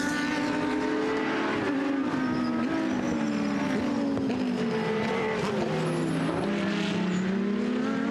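Porsche race car number 38 of Aditis Racing at Most during an endurance race, its engine droning steadily with pitch swells and shifts as it laps, mid-distance and continuous, with other cars faintly audible around it.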